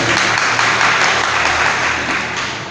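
An audience applauds at a community organization gathering, a steady, loud wash of clapping lasting the whole short stretch with no voices over it.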